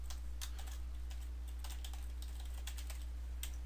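Quick, light clicks of typing on a computer keyboard, faint and steady over a constant low electrical hum, with no voices.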